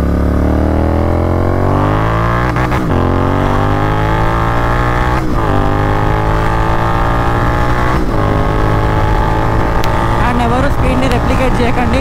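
A motorcycle accelerates hard on a night ride through Hyderabad, its loud engine climbing in pitch through several gear shifts, each marked by a short dip before the revs rise again.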